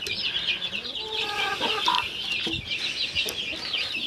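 A brooding hen clucks low and steadily beside her chicks, whose thin, high peeps run almost without pause over it, all fairly quiet and close on a small farmyard with no talking.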